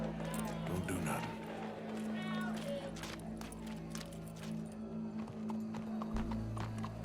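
Horse hooves clip-clop steadily in the Red Dead Redemption 2 video game, with a horse whinnying, game music and a crowd murmuring behind, and voices talking over the sound.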